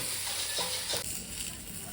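Steak sizzles in a pan, a constant crackling fry close by with a couple of brief clicks partway through.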